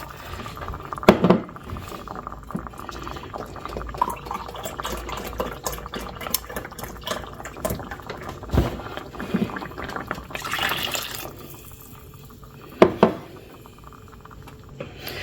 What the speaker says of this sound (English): we're going to add 2 cups of beef broth